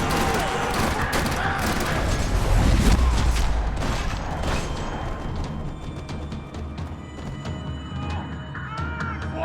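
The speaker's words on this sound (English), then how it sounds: "Another parking lot rattling with gunfire." Dense, continuous video game gunfire from Max Payne 3 crackles through a busy, chaotic scene in a parking lot, with bursts of automatic fire and sharp shots layered over a loud, rumbling background.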